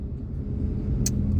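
Steady low engine rumble fills a car cabin while it sits stuck in a traffic jam, with a brief high hiss about two-thirds through and no talking.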